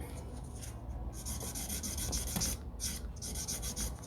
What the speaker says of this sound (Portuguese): eu vou vir com a minha lixa buffer